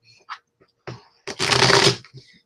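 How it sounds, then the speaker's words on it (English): A gilded-edge indie tarot deck is riffled and bridged by hand: a few soft taps and card handling, then one dense, loud riffle shuffle lasting under a second, close up with no talk. "if you're used to shuffling a tarot deck"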